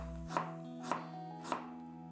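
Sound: chopping ginger into small pieces with a knife

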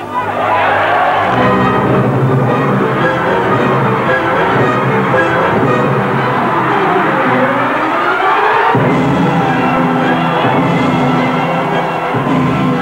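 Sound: football stadium crowd cheering

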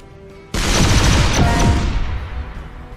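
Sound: torpedoes weapon firing in video game Shellshock Live

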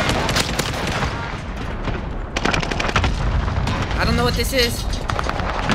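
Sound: rocket fire in a video game

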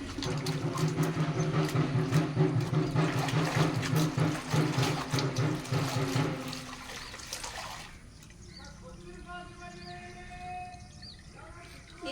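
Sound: water being drained from washed clothes

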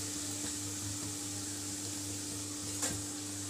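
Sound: popcorn frying in oil for bhadang snack

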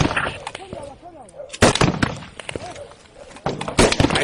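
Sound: gunfire suppressing a building in combat

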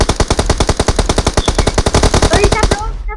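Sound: gunfire spraying in PUBG Mobile video game

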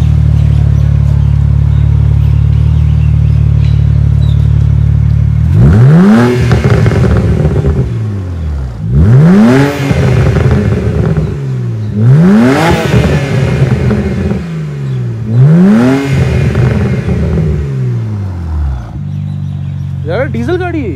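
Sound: BMW Z4 engine revving with exhaust pops and crackles

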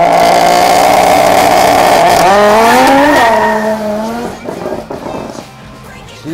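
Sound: drag race car launching and accelerating on a straight track

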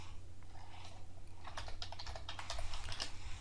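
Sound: typing on a computer keyboard

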